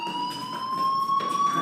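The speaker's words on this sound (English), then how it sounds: "do you hear that fire alarm? That means you should be outside." Fire alarm in the video game Life is Strange, a steady high electronic tone with layered pitches droning continuously at moderate loudness against faint background.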